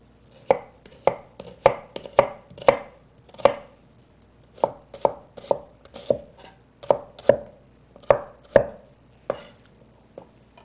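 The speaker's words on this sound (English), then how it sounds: "And I'm going to cut up the onion just a little bit." Onion chopped with a knife on a board for gazpacho, a brisk run of crisp, evenly spaced knocks in loose bursts with a short pause, close and clear.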